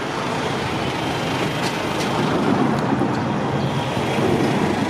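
A train passing a railroad crossing in Ellis, Kansas, heard as a loud continuous rumble of rolling wagons with faint wheel squeals, close and steady.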